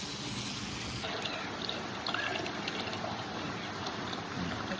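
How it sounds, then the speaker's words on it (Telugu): Water flows steadily into a box-like tank in a village, giving a faint, continuous trickle and rush with no voices. "అక్కడికి వాటర్ పోతుంది."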